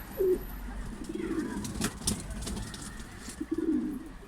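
Male pigeons, including two yanar döner (iridescent) males, coo in a loft, with several low coos near the start, middle and end over a steady background hum and faint wing or movement noises.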